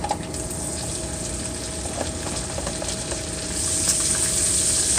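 Onions frying in hot bacon grease in a cast iron pan, a loud, steady crackling sizzle that holds throughout and grows slightly brighter toward the end.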